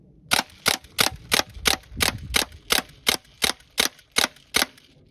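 A Crosman M1 full-auto BB gun fires in a steady train of about thirteen sharp, evenly spaced cracks, close and clear with no talk over them.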